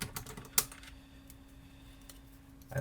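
Close, sparse clicks and taps from a computer keyboard being cleaned with a key puller, with one sharper click early and a faint steady hum beneath.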